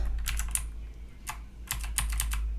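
Keys clatter on a computer keyboard as a terminal command is typed, short bursts of quick taps with brief pauses over a low steady hum.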